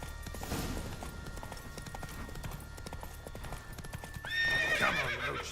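A horse in The Witcher video game clip-clops at a gallop and then lets out a loud, close whinny near the end, with game music and effects underneath.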